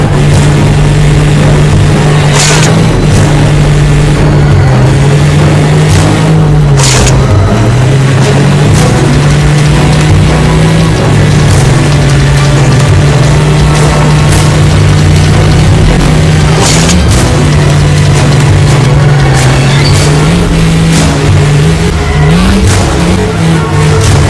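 A car engine drones loudly and continuously in the 007 Agent Under Fire driving game, revving and shifting pitch as the vehicle speeds along, with occasional sharp impacts.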